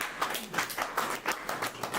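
An audience at a poetry performance claps in scattered, uneven bursts, moderately loud and close, with a faint voice underneath.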